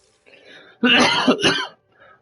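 A man coughs and clears his throat, a short harsh double burst loud and close, with faint background sound before and after.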